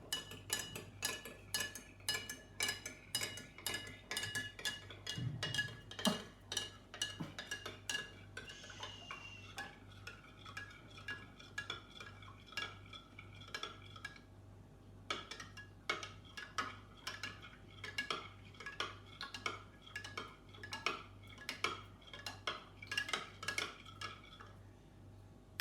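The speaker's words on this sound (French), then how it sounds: "on va mettre le sel dans l'eau. Et on va mélanger longtemps." A spoon stirs salt into water in a glass or bowl, producing quiet, rapid metallic clinks and ticks against the container in a long, continuous rhythm with brief pauses, close and soft.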